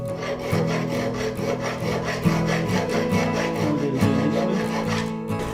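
Burrs are filed off the cutting edge of an antique hand T-drill auger, producing close, steady rasping strokes in a repeated back-and-forth rhythm with no talking.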